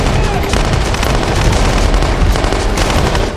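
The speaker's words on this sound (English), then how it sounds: "an armed convoy stormed in, unleashing a relentless barrage of gunfire at the Saviors." A relentless barrage of gunfire from an armed convoy, dense overlapping automatic shots crackling loudly and continuously without pause, no voices.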